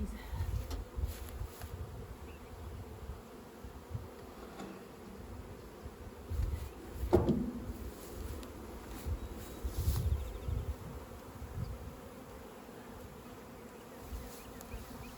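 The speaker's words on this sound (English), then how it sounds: "Then I'm gonna get up there and see if I can get the rest of them bees." A steady, low insect buzz of a swarm of many honey bees hums throughout, with brief louder swells and faint rustling close by.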